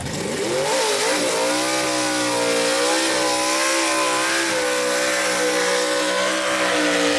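A B/Gas class gasser drag race car roaring down the strip at Kil-Kare Dragway, a loud continuous engine howl rising in pitch through the gears, heard close and without pause.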